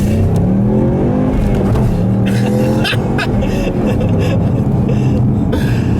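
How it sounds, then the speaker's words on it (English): A Ford Mustang engine revving up loudly nearby, pitch climbing steadily through the gears with brief shifts, continuous engine roar throughout. "A little acceleration."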